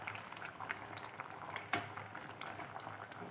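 A pot of bamboo shoot curry with shiitake and white mushrooms, baby corn and luffa simmers nearby, a steady soft bubbling with a few louder pops, fairly faint and with no one talking.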